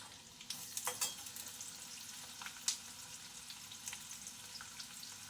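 Green chillies and garlic frying in a pan, a soft continuous sizzle with light stirring clinks and scrapes, fairly quiet and close.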